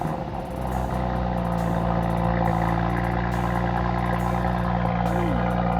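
A Stage 1 tuned Audi RS5 engine gives a steady, deep rumble from inside the car, holding an even drone with a brief rise in the middle, with no voices.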